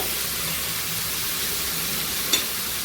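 Sliced onions sauté in a hot pan for a South Indian curry, giving a soft, steady sizzle and hiss at low volume, with one brief clink of a utensil near the end.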